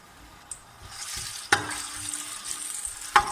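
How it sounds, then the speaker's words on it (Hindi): Chopped onion frying in a pan until light brown, a steady soft sizzle with a few sharp clanks of a spoon against the pan, no talking. "और एक छोटी मीडियम प्याज को हमने काट लिया है और इसको अब हम लाइट ब्राउन कर लेंगे।"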